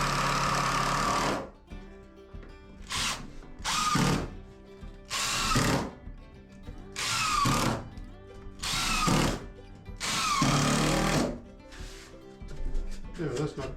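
A power drill drives screws into a scrap 2x4, giving a series of loud, close whirring bursts of roughly a second each that start and stop in an irregular rhythm, with brief pauses between them.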